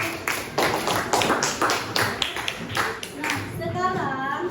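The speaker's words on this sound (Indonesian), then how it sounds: "Oke, tepuk tangan untuk kelompok 1." Children in a classroom clap for a group, a run of uneven, separate hand claps in loose bursts, with a voice mixed in near the end.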